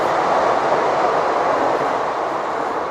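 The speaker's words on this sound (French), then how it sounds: "il y a un train qui passe, on va attendre qu'il passe parce qu'on ne s'entend plus." A train passes close by, a loud, steady rumbling roar of rolling wheels that drowns everything else throughout.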